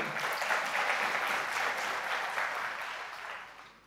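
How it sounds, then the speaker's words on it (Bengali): Dense, steady audience applause fills a hall at an entrepreneurship talk, holding strong before gradually fading away toward the end. "বড় একটা হাতে তালি দেন না ভাই।"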